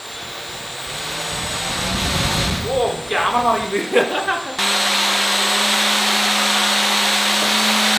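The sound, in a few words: Turnigy 1450 kV drone motor running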